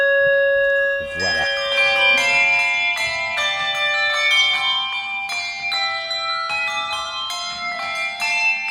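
A carillon bell in a church in St Quentin is struck and left to ring, its bright tones layered and sustained, with further strikes ringing out one after another and no talk over them.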